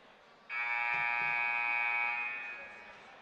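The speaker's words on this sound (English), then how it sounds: "It's a 10-second warning buzzer." A single harsh electronic 10-second warning buzzer at a high school boys basketball game blares for about two seconds, then fades, over a faint gym murmur.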